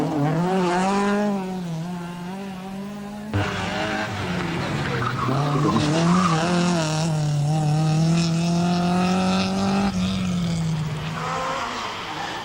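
Racing cars at the 1986 24 Hours of Ypres rally, among them a white Porsche and a Peugeot, scream past with high revving engine notes rising and falling in pitch, loud and close, beneath a French commentator's voice.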